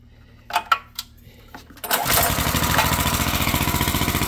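A few light clicks and taps come before a Kohler SH265 small engine on a Kohler 3000 unit, freshly repaired with adjusted valves, starts up and settles into a steady, close, evenly pulsing idle.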